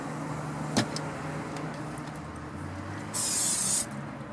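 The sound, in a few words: spraying olive oil onto bread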